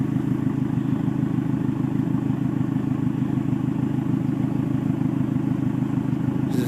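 After a Sea Foam treatment, an engine runs at a smooth, steady idle, a close, even mechanical hum with a light clattering texture and no sputter, continuing unchanged throughout.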